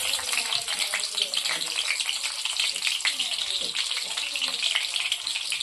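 Garlic cloves frying in a pan of hot oil while cooking a pigeon-pea pod khalbat, with a steady, dense, close sizzle that crackles without pause.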